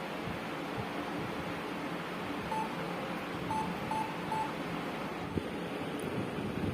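A Lenovo E4325 laptop that powers on with no display emits a few short, evenly spaced electronic beeps over a steady background hiss.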